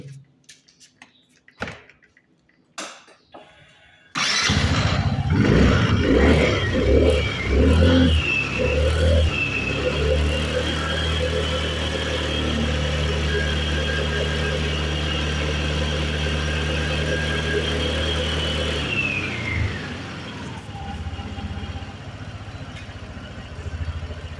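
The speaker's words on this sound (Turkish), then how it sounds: "Motorumuzu bir tekrardan çalıştıralım." A 125cc scooter engine starts after a few handling clunks, then runs close by at a steady, buzzing idle with a brief rev early on, continuing loudly to the end.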